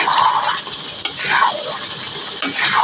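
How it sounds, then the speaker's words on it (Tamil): Fried chicken balls go into a pan of thick sauce and are stirred: a soft, steady sizzle with wet stirring and sloshing, plus a couple of sharp clinks of a utensil against the pan, close and clear with no talking. "ஃப்ரை பண்ணி வச்சுருக்க சிக்கன் பால் இதில் போடுறோம்"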